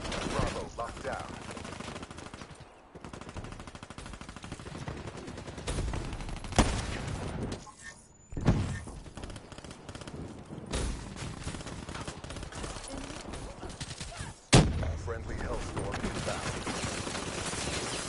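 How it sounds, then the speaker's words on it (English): Call of Duty Black Ops 3 multiplayer gunfire crackles in rapid automatic bursts and single shots from several directions, dense and loud, with brief pauses between exchanges and a voice talking over parts. "everyone's getting shot from every direction"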